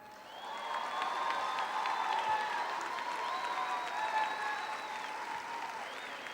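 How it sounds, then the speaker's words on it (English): Sustained applause fills a graduation ceremony for the Lake Central Class of 2023 as honors students stand, steady dense clapping from a large crowd with faint voices mixed in. "Please give this outstanding class a round of applause for all of these tremendous accomplishments"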